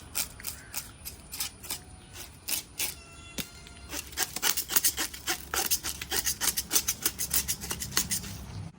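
Fish being scrubbed clean by hand before frying, a series of sharp rasping strokes that start spaced out and then quicken into a rapid, steady rhythm, close and alone.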